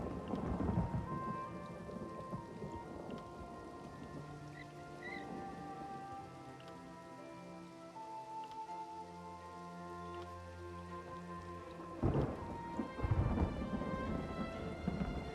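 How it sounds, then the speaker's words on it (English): Thunderstorm in The Elder Scrolls Online: steady rain pattering on surfaces with rolling thunder, a loud thunderclap bursting near the end, while sustained musical tones hum underneath. "Wow, that was a really loud thunderclap."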